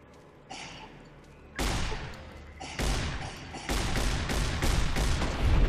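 Gunfire in Fallout: New Vegas at the Tops casino, with dense, loud bursts of shots that start sparse and build into sustained, rapid volleys with no voice over them.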